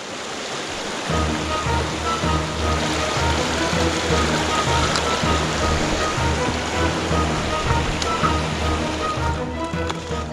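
Rushing water of a rocky mountain creek on the Missouri Mountain trail from Missouri Gulch, a steady broadband roar that starts after a second and stays close and constant.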